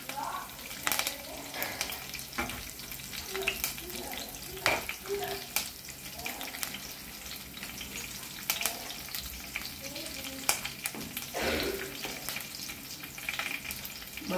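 Cumin seeds, curry leaves and green chillies sizzle in hot oil for potato fry, a close crackling, spattering hiss with sharp pops and scrapes of stirring throughout, sometimes with brief faint sounds of someone moving nearby.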